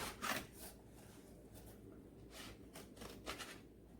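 Faint close scraping and rubbing as cardboard is cut for a DIY organizer, with several short strokes spread irregularly through the quiet passage and no talking.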